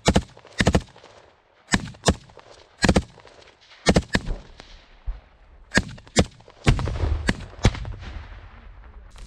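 Gunfire and an RPG launch in combat near Bakhmut: sharp, loud shots come singly and in quick pairs, some echoing far off, with heavier booming blasts and rumble near the end and no clear speech.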